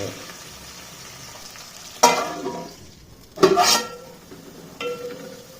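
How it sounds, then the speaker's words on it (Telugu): Onions, green chillies and curry leaves sizzle steadily in a pan while a spoon stirs them, with three louder scraping bursts rising over the constant frying hiss. "కల్మాకు పచ్చిమిర్చి ఉల్లిగడ్డ మంచిగా లైట్ బ్రౌన్ వచ్చేదానికి ఫ్రై చేసుకోవాలి"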